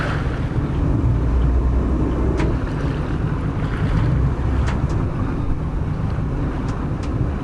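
Wind roars steadily around a twin-engine boat as it docks into its slip, a dense, constant broadband rush and low rumble with no pauses or talk.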